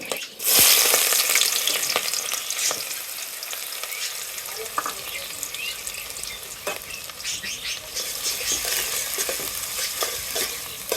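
Onions and whole spices sizzle lightly in a pot for white pulao, a close, continuous frying crackle with scattered stirring scrapes and a few sharp clinks.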